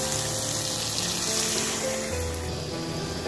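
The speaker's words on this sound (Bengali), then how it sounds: "এবার আমি জল অ্যাড করে দেবো।" Water poured into frying masala for a Bengali bhola fish curry, giving a steady rushing, bubbling wash of sound that holds throughout at close range, with no talking.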